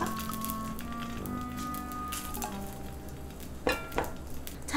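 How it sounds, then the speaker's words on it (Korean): Rice ball patties frying in cooking oil give a quiet, continuous sizzle with faint crackles, a steady hum underneath and a couple of sharp clinks near the end, with no voices. "재료를 구워볼게요. 식용유를 두르고"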